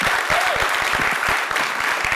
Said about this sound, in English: this has to be the loudest round of applause